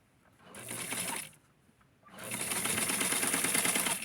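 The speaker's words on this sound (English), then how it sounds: "So I'm going to sew this part right here, and I'm pulling it here." Domestic sewing machine stitching the inside seams of a fabric pillbox hat, running in two sustained bursts of rapid mechanical whirring separated by a brief pause, close and fairly loud with no talking.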